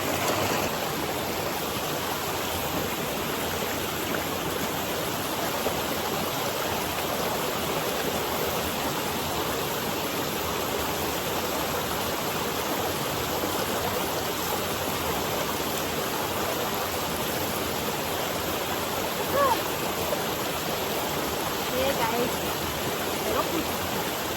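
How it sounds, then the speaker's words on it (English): Water rushes and splashes steadily during an outdoor bath in the Jamaican countryside, a dense, unbroken hiss of flowing water that runs loud throughout. "So watch me here and take a bath."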